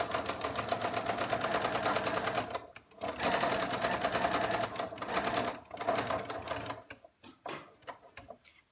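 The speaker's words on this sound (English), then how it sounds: "Just sewing a couple of mil from the edge." A sewing machine stitches fabric a couple of millimetres from the edge while making scrubs, a loud, fast steady whirring run that pauses briefly, resumes, then slows into short stuttering bursts near the end.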